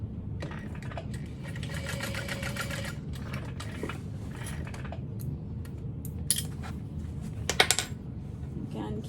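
Sewing machine basting a side gusset onto a fabric bag, a steady low motor hum with short stitching runs and a few sharp clicks of handling nearby.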